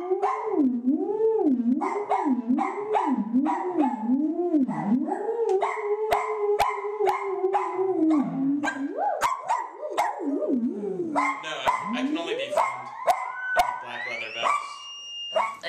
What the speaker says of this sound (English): So now they can actually make sound with their theremins.